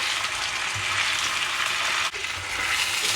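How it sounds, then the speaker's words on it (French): Onions fry in marinade garnish in a pan, giving a steady, close hiss of sizzling with faint stirring scrapes and one brief knock near the end, with no talking. "Je vais retourner une seconde fois, bien faire griller les oignons."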